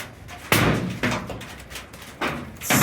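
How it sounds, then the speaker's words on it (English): Quarter-size hail slams down hard during a June thunderstorm in Colorado Springs, hitting in several loud, sharp impacts spaced about half a second apart over a steady hiss of falling ice and rain. "And we got like quarter-size hail dropping right now. It's dropping hard."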